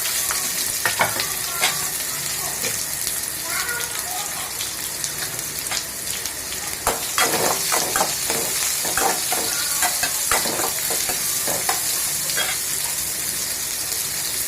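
Onions sizzle and crackle steadily in a hot pan with popped mustard seeds, with occasional stirring scrapes and clinks close by.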